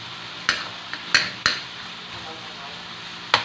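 Beef or pork sautéed briefly in a pan for ginataang takway, with soft sizzling under a few sharp stirring scrapes and utensil clacks against the pan, all close by.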